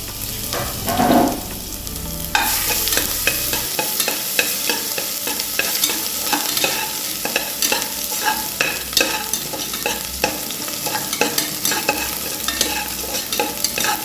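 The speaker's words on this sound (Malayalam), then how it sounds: "ഇഞ്ചി വെളുത്തുള്ളിയും പച്ചമുളകും കൂടിയുള്ളത് ഒന്ന് വഴറ്റിയെടുക്കാം" Ginger, garlic and green chilli sauté in hot ghee for a vegetable biryani, a steady close sizzle broken by repeated scraping stirs of a spoon against the pan, with no talking.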